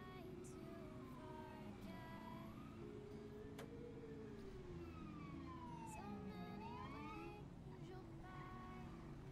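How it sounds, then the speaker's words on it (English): Emergency vehicle sirens in a roleplay video game wail up and down faintly in the distance over a constant low rumble, with several overlapping sweeping tones. "I hear sirens."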